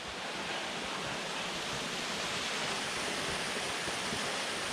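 A dense, constant rush of falling water fills the scene, loud and unbroken with no voices.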